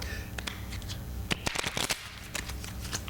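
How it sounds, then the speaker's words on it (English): A deck of playing cards being shuffled up close, with quick riffling bursts and soft flutters repeating over a few seconds. "I can't shuffle at all"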